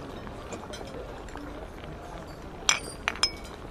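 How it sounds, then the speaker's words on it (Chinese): A few bright glass clinks ring out near the end as three people touch glasses in a toast, a couple of quick taps over a low, quiet room background. "我们三个一起碰杯。"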